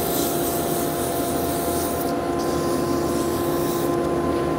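Abrasive rubs against a wooden bottle stopper spinning on a woodturning lathe, a loud, continuous hissing scrub that holds steady throughout with no talking.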